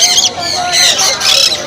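Pet birds at a bird market in Shrirampur squawk and chatter in shrill, repeated bursts close by, with market voices mixed into the background.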